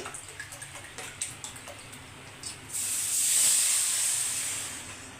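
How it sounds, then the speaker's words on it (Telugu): Water poured from a glass onto wheat semolina for motichoor laddu, a steady rushing pour of about two seconds after some faint clicks and taps, fairly close and alone. "ఇప్పుడు మనం ఒక గ్లాసు రవ్వకి మూడు గ్లాసులు నీళ్ళు పోసుకుందామండి"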